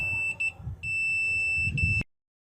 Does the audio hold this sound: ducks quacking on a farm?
no